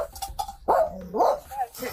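A dog barks in a few loud, close bursts amid a tense indoor police encounter at a doorway, with people talking over and between the barks.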